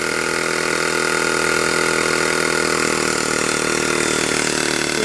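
A vintage American Weeden model steam engine runs in reverse on about 10 psi of steam, giving a steady, continuous mechanical chuffing and whirring at close range with no pauses.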